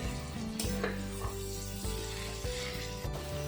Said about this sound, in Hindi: सारे मसाले को अच्छे से मिला देंगे।